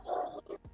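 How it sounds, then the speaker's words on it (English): A single dog barks a couple of times nearby, short yelping woofs with brief pauses between them. "That's my dog barking."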